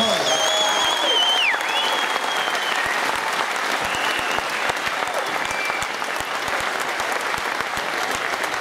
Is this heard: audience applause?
yes